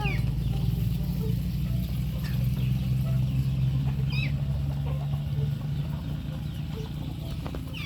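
Chickens and small chicks cluck and peep around a farmyard, with scattered high chirps over a constant low rumbling hum.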